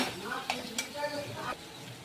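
Onion being stirred with turmeric and salt in a pan while cooking egg bhurji, with brief scraping clinks of a spoon against metal and a soft sizzle, a few distinct strokes close by.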